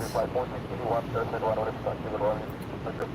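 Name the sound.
JetBlue airliner on runway 7 at Orlando Airport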